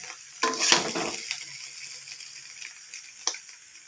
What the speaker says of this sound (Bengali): আস্তে আস্তে মিলাবো আর নাড়বো।